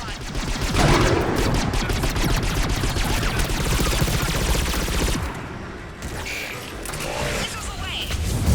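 Missiles launching in rapid succession in Mass Effect 3, a dense volley of gunfire-like bursts and rumbling blasts with game dialogue spoken over the barrage.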